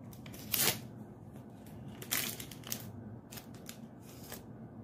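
Packaging of an Abbott Panbio COVID-19 antigen test kit is torn and cut open nearby, giving a few crisp snipping and crinkling bursts over quiet background, with no talking.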